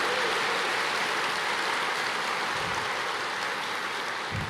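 A church congregation applauds during a sermon, a dense, even wash of many hands clapping that holds steady throughout at moderate distance, with no voices standing out.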